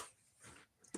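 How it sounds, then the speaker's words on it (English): A puppy gives a brief, faint whimper with a few small yips near the end, heard alone over quiet room noise. "Baby puppy."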